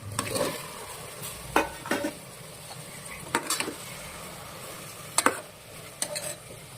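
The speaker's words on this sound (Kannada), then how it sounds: "ಫ್ರೈ ಆದಮೇಲೆ ಹೆಚ್ಚಿಕೊಂಡಿರೋ ತರಕಾರಿನೂ ಹಾಕ್ತಿದ್ದೀನಿ" Chopped vegetables dropped into a frying pan for a simple palav, followed by spoon scrapes and stirring clatter over a steady low sizzle, with several sharp metallic knocks spaced through the clip.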